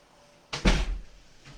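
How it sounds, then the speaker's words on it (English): An office door shuts with a single muffled thud and short rattle, fairly close, followed by a soft trailing room noise; no one speaks. "I'm going to close my office door."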